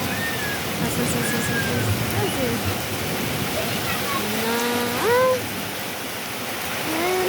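Heavy rain pours in a dense, steady hiss, with occasional short whistling calls rising above the downpour.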